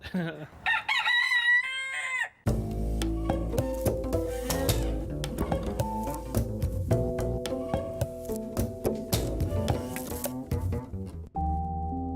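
A rooster crows loudly at the start, followed by a long stretch of layered music with steady beats; faint clucking may sit underneath.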